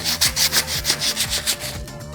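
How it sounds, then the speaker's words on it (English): Foam spheres are sanded with 220 to 400 grit sandpaper in rapid back-and-forth strokes, about a dozen rhythmic rasping rubs, close and steady. "Next, we're gonna be doing some sanding."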